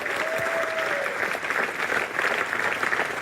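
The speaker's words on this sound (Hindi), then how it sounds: "चलिए भट्ट साहब के लिए जोरदार तालियां" A studio audience at a Hindi comedy show breaks into loud, continuous applause, a dense wash of clapping that holds steady, with a brief tonal whistle early on.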